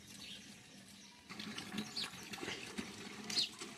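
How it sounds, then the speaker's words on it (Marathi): Water from a house tap is poured into a container outdoors in a village, a faint, uneven splashing that grows a little louder partway through. "बापू पाणी भरताय मस्तपैकी."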